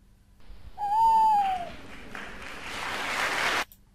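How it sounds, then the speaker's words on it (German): An applause sound effect played back in Audacity starts as a swell of clapping, with a falling whistle-like tone at its start, then a steady wash of applause that cuts off abruptly. "lauter Applaus, den könnte ich später dann leiser stellen"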